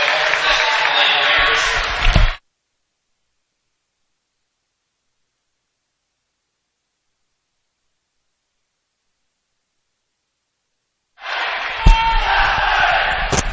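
A high school girls' basketball sectional final crowd murmurs and rustles in a gym as fans file in, the steady din heard for about two seconds, then a long silence, then the crowd noise returning.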